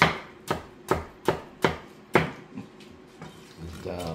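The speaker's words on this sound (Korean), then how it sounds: "수박을 한번 썰어 보겠습니다" A knife chops through a watermelon, about six sharp, close thuds in an even rhythm, then softer, sparser cuts and light clatter as the slicing slows.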